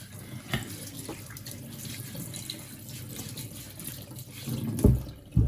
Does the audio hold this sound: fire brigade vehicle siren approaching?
no